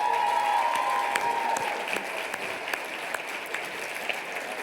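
Applause from the audience at a fitness club business expo's Shark Tank event, a steady wash of many hands clapping that starts full and eases slightly in level over several seconds, with a faint tone fading early on.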